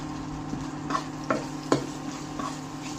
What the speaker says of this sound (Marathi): थोडा वेळ परतून घेऊया.